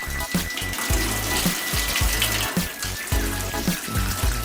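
Water runs from a tap fed by a solar-powered pump, a close continuous splashing stream with a rhythmic pulsing surge underneath, alone without talk.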